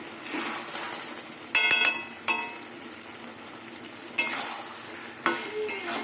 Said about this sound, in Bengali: নামানোর আগে একটু ঘি দেবো নিরামিষ তরকে একটু ঘি দিলে আরও ভালো লাগবে